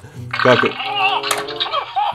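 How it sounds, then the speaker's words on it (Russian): Air bubbles gurgle through a small hole inside a slime monster toy at close range, in short wet bursts mixed with squelchy burbling. "вот такая вот кнопочка, при которой булькает воздух через дырочку"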